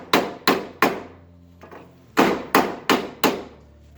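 Seven sharp hammer blows on a metal hood pin mount of a KA-swapped AE86, struck in two quick bursts of three and four with a pause between, loud and close with ringing decay.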